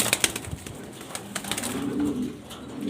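Jorna satin pigeons kept as pets give soft cooing and faint wing flutters, a few short bursts over steady low murmuring nearby, with no talking.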